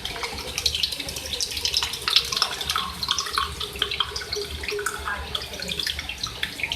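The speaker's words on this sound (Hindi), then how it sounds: "ग्रेवी के हिसाब से मैं इसमें पानी ऐड कर रही हूँ।" Water pours steadily into a dhaba-style beef aloo gosht gravy for about seven seconds, a continuous splashing rush with no voices.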